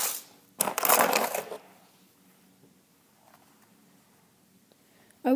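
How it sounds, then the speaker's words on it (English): Lightbulb glass shattering under a light hammer tap, a short bright crunch and tinkle of breaking glass followed by quiet, with another sharp impact at the very end. "you're just gonna lightly tap it with a hammer, and try not to destroy where all the filaments are"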